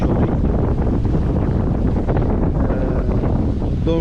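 Strong wind buffets the microphone aboard a sailboat crossing the Atlantic between Bermuda and the Azores, sailing about 120 degrees off the wind, with a loud continuous roar and gusty rumble and no talk.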